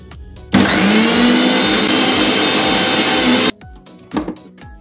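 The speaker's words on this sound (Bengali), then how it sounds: "একটি মিক্সিং জারে ইনগ্রিডিয়েন্টসগুলো পেস্ট করে নিয়ে নিলাম।" A mixer grinder jar blends chaat spice ingredients of chopped onion, tomato, ginger, garlic and dried chilli into paste, a loud continuous whirring roar for about three seconds, then cuts off, followed by some clattering handling knocks.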